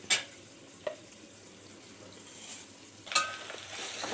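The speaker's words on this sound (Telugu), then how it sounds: "ముక్కలు అనేది బాగా నూనెలో మగ్గుతేనే మంచి రుచి వచ్చే పులుసుకు" Bitter gourd pieces frying in oil for a tamarind pulusu curry: a faint, steady sizzle with a few sharp clatters of stirring near the start and again past the three-second mark.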